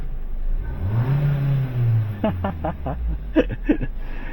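Engine of a 2021-2024 Kia K5 with a 1.6L turbo GDI starts up and settles into a steady idle. The low hum is close and continuous, and a few short clicks and knocks sound over it toward the end.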